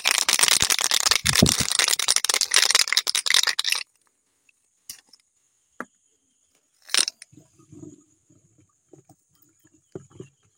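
A pesticide mixture is shaken hard in a sprayer tank for about four seconds with a loud, dense sloshing rattle, then stops, leaving only a few faint knocks and handling sounds.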